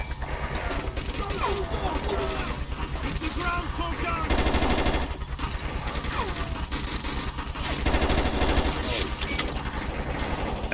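Rapid gunfire from the Just Cause video game, sustained bursts over an engine-like drone with a few louder swells, while a voice talks over the shooting.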